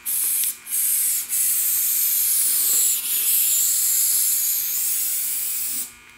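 An aerosol can sprays onto factory decals on a classic car's paint in long hissing bursts, with two brief pauses early on, then one sustained hiss close up.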